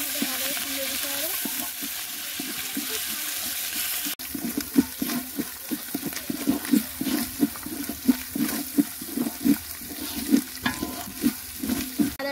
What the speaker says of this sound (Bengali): আদা রসুনটা ভালো করে ভাজা ভাজা হয়ে গেছে